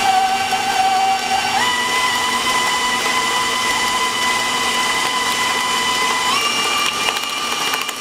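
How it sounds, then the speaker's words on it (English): An electric mixer beats cream cheese and sugar with a loud, continuous motor whine that steps up in pitch twice as the speed rises, close by with no voices. "you're gonna mix that together on about medium-high speed for 5 minutes or until it's nice and fluffy"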